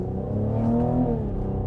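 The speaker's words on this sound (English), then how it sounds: "The sound of an engine." A Cadillac CT5-V engine revs loudly and close, a deep steady rumble swelling and rising in pitch for a moment before settling, with no talk over it.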